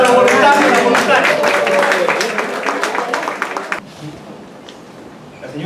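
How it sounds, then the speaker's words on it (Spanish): An audience at a training course in Lima claps for volunteers, a burst of crowd applause mixed with voices that carries for a few seconds, then stops abruptly, leaving quiet room noise. "Un aplauso para los voluntarios y las voluntarias."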